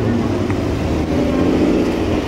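A Porsche GT4 passes with a loud, sustained engine roar that stays thick and close throughout, while an excited voice exclaims over it.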